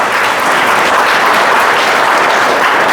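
Audience at a Rajasthan school event breaking into sustained, loud applause to welcome former student Prem Singh Gaur, a 2020-batch history lecturer, with dense clapping filling the whole stretch.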